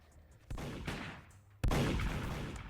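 Heavy gunfire in the Roblox game Be NPC or Die bursts out in two loud volleys, the second sharper and louder, with sustained crackling shots filling the gaps.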